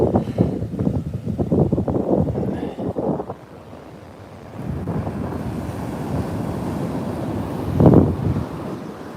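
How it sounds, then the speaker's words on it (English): Ocean surf rolls onto the beach at Virginia Beach, a steady close wash of breaking waves with heavy wind buffeting, easing briefly midway before building again into a louder surge near the end. "I'm glad I could bring you all the ocean"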